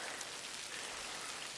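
Rain falling at a riverside camp, a soft continuous patter and hiss of drops on surfaces, faint and steady with no voices.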